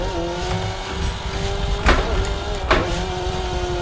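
A high, buzzing low-power drift car engine in the racing video game Assetto Corsa holds a steady pitch, briefly surging and dipping twice as it revs, with no talking.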